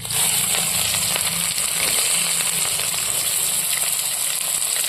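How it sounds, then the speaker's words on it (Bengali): Bay leaf, whole cumin and chopped onion fry in hot oil, a loud, steady close sizzle with a rushing hiss throughout and no talk. "তেল গরম হয়ে গেছে এখন ফোড়ন দিয়ে দেবো তেজপাতা গোটা জিরে দিয়ে দেবো পেঁয়াজ কুচি"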